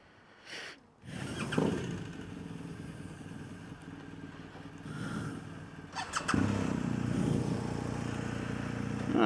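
A BMW R1250 GS ShiftCam motorcycle engine cranks and catches, settles into a steady close idle, then revs louder and heavier for the last few seconds, with no talking.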